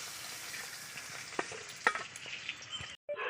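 Salted fish heads fry crisp in hot oil for a fish-head and taro greens dish, making a soft steady sizzle with occasional sharp pops and crackles before the sound cuts out briefly near the end.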